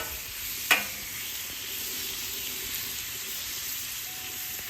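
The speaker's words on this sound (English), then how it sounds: "one chicken breast that I cut up into small pieces. We're gonna get these grilled out here." Small pieces of cut-up chicken breast sizzling steadily in a pan for lo mein, a constant close hiss with one brief clank near the start and no voices.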